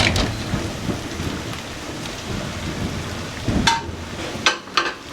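Fried pointed gourd pieces tumble into a pan of potatoes and spices, under a steady hissing sizzle with a few soft clunks near the end, and no talking.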